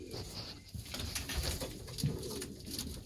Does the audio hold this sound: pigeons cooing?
yes